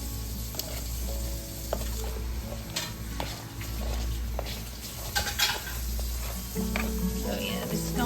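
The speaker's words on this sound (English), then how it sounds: "We're just gonna stir it a coat again and then put it back in for the last 15 minutes." A spoon stirs butter toffee coated oyster crackers on a tin-foil-lined pan, giving steady close scraping and rustling with crisp clicks over a constant background hum.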